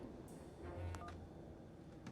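A phone signal in the football video game Madden 20, heard as a few brief electronic tones and beeps over a low steady game background, fairly faint.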